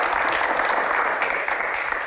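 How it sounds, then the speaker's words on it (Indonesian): Sustained applause from a concert-style audience greeting a music promoter, a dense, even wash of clapping that fills the whole stretch without pauses, close and fairly loud. "tepuk tangan"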